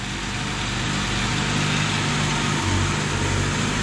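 A Yamaha TDM 850 motorcycle engine with 48,000 kilometers runs at a steady idle, a loud continuous close-up drone with no talking.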